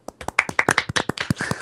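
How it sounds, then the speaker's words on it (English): A small group breaks into a short round of applause, a quick burst of hand claps with a few loud individual claps, fairly close and with no talking over it. "Round of applause."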